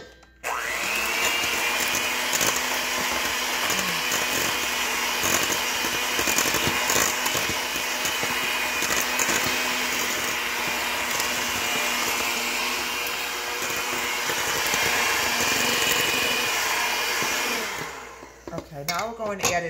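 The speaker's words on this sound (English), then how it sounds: "Okay, we're going to mix this together." Blueberry bran muffin batter being beaten with an electric mixer, a loud steady whir running near-continuously for about eighteen seconds before cutting off.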